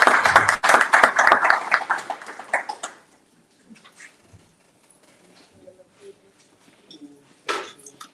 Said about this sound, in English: I want you to clap it up for Tanay to talk about her work this morning